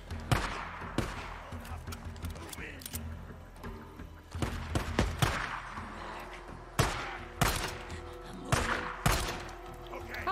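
Gunfire in the video game Days Gone: about a dozen sharp shots at irregular intervals, fairly close, over a quiet ambient background.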